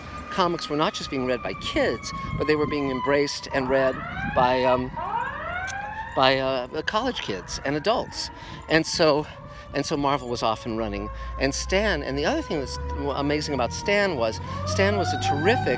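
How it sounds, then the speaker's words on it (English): A wailing siren rises and falls in the background while someone talks continuously over it. "sorry about the sirens, guys."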